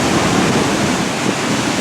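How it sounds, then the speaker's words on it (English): Athabasca Falls pouring over limestone: a loud, steady, broadband roar of rushing water, close and continuous with no pauses or voices. "This is the Athabasca Falls, and this is all limestone."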